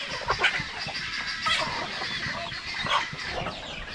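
Native chickens and guineafowl hens on a farm make a noisy, continuous chorus of clucks and sharp calls, moderately close, with a few louder bursts standing out.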